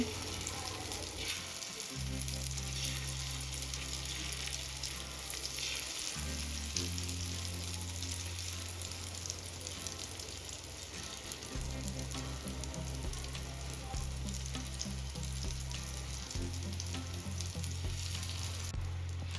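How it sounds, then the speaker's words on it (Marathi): Egg omelette batter sizzles loudly and evenly on a hot griddle, a constant crackling hiss over a low, droning hum. "आता आपण हे बॅटर स्प्रेड करून घेणार आहोत तव्यामध्ये"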